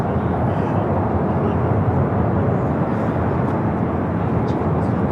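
An Avianca airliner bound for Guatemala City at Los Angeles International Airport, a loud, steady broadband jet roar holding constant throughout without a break.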